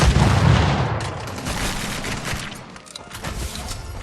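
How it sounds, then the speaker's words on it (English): Grenade going off in the roguelite shooter R.I.P. Reincarnation Inspired: a loud, deep blast at the start that fades under a rapid crackle of game gunfire and impacts. "Here, take a grenade."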